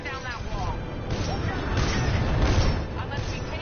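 Cannons fire in the video game Titanfall 2 as heavy booms and rumbling blasts that swell toward the middle of the clip, loud and dense, under a busy battle mix.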